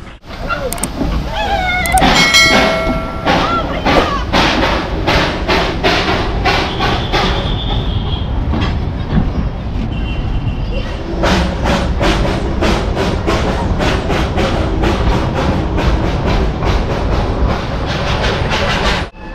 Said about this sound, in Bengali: টয় ট্রেন ছাড়বে স্টিম ইঞ্জিন, সেই বহু পুরনো সেই স্টিম ইঞ্জিন